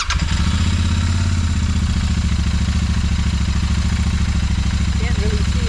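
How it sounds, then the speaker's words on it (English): Royal Enfield Continental GT650 twin engine started after a first service and valve adjustment, running loud and close with a fast, even, throbbing idle and mechanical clatter throughout. "We're just going to turn the bike on, make sure that there's no fuel leaks, make sure that there's no oil leaks"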